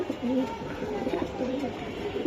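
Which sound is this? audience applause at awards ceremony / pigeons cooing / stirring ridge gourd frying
pigeons cooing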